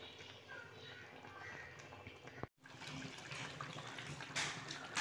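Water is poured into chicken curry as it cooks, a soft splashing and sizzling wash that breaks off briefly midway, then resumes slightly louder, quiet overall and heard close.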